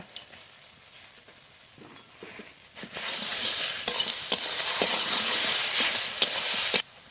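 Taro stolons with turmeric, cumin and green chili paste stir-fried in a pan, light scraping at first, then a loud steady hissing sizzle swelling up as spice paste hits the oil, with repeated knocks of the spatula.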